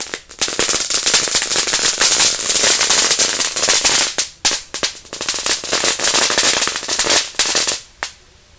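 Rapid strings of firecrackers exploding in a wok crackle and bang loudly up close, dense popping bursts that thin out into a few scattered final snaps.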